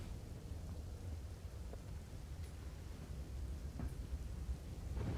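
Continuous heavy monsoon rain falls over Ahmedabad as an even, hissing wash, fairly faint and steady throughout, with a few faint drips.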